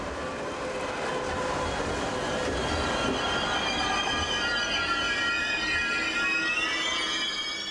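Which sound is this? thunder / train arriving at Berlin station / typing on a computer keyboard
train arriving at Berlin station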